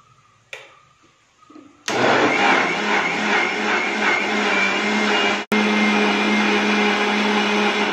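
Mixer grinder blending papaya ice cream mixture: a loud, steady whirring motor runs for about six seconds after a soft start, cuts out briefly, then restarts at full power, with no talking.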